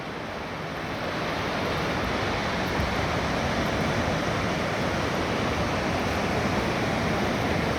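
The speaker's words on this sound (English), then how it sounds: "Listen to the ocean." Pacific Ocean surf at Dana Point beach, a continuous broad roar of breaking waves with some wind noise on the microphone, steady and fairly loud with no talking.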